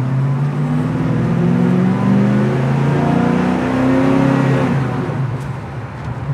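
A 1970 Chevrolet Camaro with a numbers-matching transmission accelerates steadily, its engine note loud and close as the revs climb and then fall away near the end.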